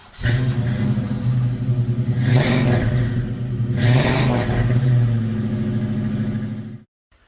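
A Ford Falcon XD engine with a 2¼-inch twin exhaust system revs hard three times over a steady deep rumble, close and loud, then cuts off abruptly.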